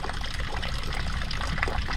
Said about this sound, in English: You hear that water flowing noise? I built a little mini pond here for water lilies, and it's kind of loud.